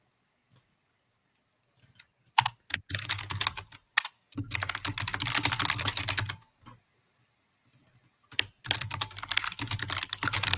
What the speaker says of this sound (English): Just the sound of enraged typing